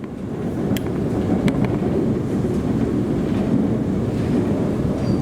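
An HCMT suburban electric train in Melbourne, on the line from Flinders Street to Dandenong, rumbles steadily with a loud continuous low roar and occasional faint high squeals over the running noise.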